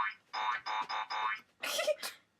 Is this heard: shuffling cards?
no